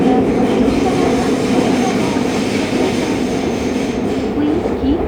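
Fukuoka City Subway 2000 series trainset 23 with late Hitachi GTO-VVVF traction, heard from inside the car while running, a loud steady rolling rumble with motor hum and a faint rising whine near the end.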